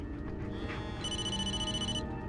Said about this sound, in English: We have to answer our phone. I wonder who's calling.